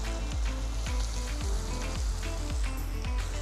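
Meat masala spice mix sizzles steadily in a hot pan for a cauliflower and coconut milk curry, a loud continuous hiss punctuated by regular soft thumps about every half second.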